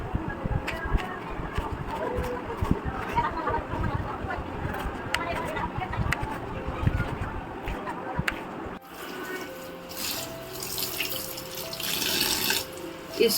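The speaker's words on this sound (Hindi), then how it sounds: "आपको इसको ठंडे पानी से वॉश करना होता है इस तरीके से" Cold tap water runs into a sink as cooked chowmein noodles are rinsed, a steady splashing stream that gets brighter and fuller partway through, with faint voices in the background.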